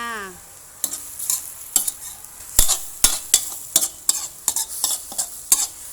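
Lotus stems being stir-fried with oyster sauce in a hot pan, with a steady sizzle under a run of sharp, repeated spatula scrapes and knocks, close and fairly loud.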